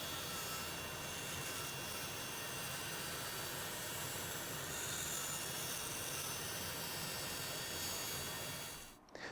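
A bandsaw cuts a taper on a table leg, giving a continuous dense roar at steady level that cuts off abruptly near the end.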